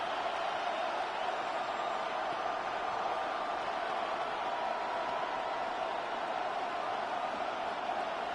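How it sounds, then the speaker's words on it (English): Football stadium crowd roars in a steady, broad wash of cheering noise with no breaks, loud and continuous from a distance. "What about this crowd getting even louder before 3rd and 10?"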